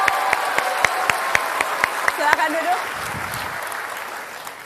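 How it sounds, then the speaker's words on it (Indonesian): Studio audience applause for two Jakarta governor debate candidates on a TV talk show, with a few sharp, evenly spaced individual claps standing out, thinning as a host speaks briefly over it. "Sekali lagi kita kasih tepuk tangan untuk dua kandidat"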